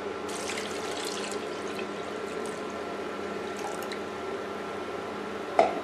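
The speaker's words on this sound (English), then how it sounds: "add 1 cup of pigeon peas and cover with" Water runs steadily into a saucepan over pigeon peas, a soft continuous pouring stream ending with a brief clunk.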